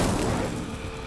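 Incendio fire spell cast in a game, a short, loud, booming burst that hits at once and then fades into a low, crackling rumble.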